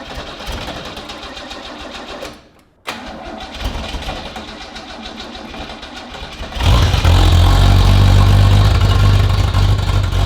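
An engine on a home build runs on choke. It chugs roughly, cuts out for a moment, catches again, then surges into a louder, steady roar that stays close and dominant.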